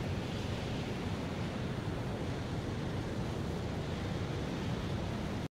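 A rocket engine at full throttle in the Stormworks video game produces a steady, unbroken broadband roar with no speech over it, ending abruptly.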